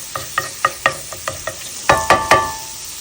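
Garlic frying in a pan, with a series of sharp, evenly spaced clacks of a utensil against the pan over a faint sizzle, getting louder and more resonant toward the end, no voices.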